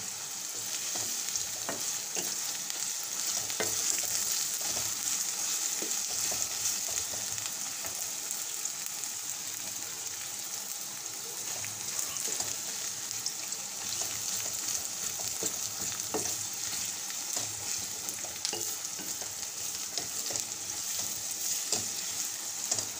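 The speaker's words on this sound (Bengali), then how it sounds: "পেঁয়াজগুলো আমি একদম লাল লাল করে ভেজে নেব" Onions fry in a pan with dalda until browned, making a continuous close sizzle with steady crackle and occasional stirring clicks, and no voices.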